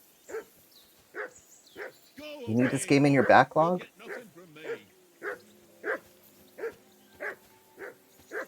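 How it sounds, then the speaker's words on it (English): In the video game Kingdom Come Deliverance II, a dog barks in a steady repeated rhythm, about a dozen evenly spaced woofs at moderate distance, with someone talking briefly over the middle. "I assume you can hear that damn dog of yours barking."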